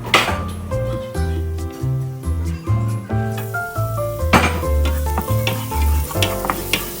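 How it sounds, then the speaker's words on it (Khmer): Garlic and chili stir-fry in a pan as the first step of a seafood spaghetti sauce, giving a steady, close sizzle that is stirred now and then over loud, continuous background music. "ឥឡូវខ្ញុំចាប់ផ្ដើមឆាហើយខ្ញុំដាក់ខ្ទឹមនិងម្ទេសចូល"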